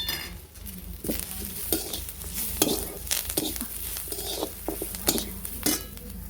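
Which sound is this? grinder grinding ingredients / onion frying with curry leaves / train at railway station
onion frying with curry leaves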